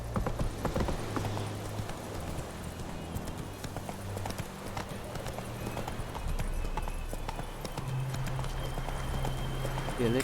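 Roach, the horse in The Witcher 3: Wild Hunt, gallops with steady clip-clopping hoofbeats through the whole stretch, joined by low game ambience and a faint, brief whinny near the end.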